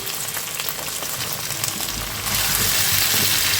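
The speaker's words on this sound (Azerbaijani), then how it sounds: "Kartuşkamız artıq yavaş-yavaş qızarmaq üzrədir." Chopped potatoes fry in a pan, a constant close crackling sizzle that swells louder and fuller about two thirds of the way through, with no talk over it.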